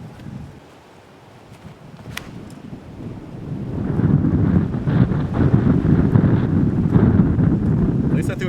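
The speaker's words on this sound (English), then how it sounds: "This is like the hardest wind for this hole, right to left." Strong, gusty wind on a disc golf course during a hurricane roars across the microphone, rising to a heavy sustained buffeting that continues to the end, with faint voices in the background.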